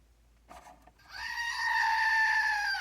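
A goat bleats once, a loud, sustained, wavering call lasting over a second, preceded by a few faint scuffs and short sounds, up close with no talking.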